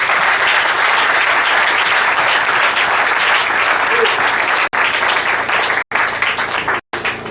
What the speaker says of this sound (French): Est-ce qu'on peut acclamer pour l'homme?